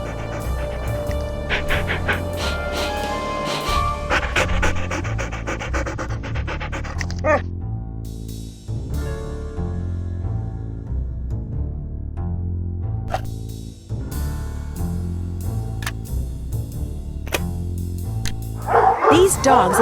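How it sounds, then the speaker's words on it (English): Ghost dogs in a Nancy Drew video game pant and bark repeatedly, with yips and whimpers over a continuous backdrop of game music, loud and close throughout. "These dogs have been trained to act vicious on command."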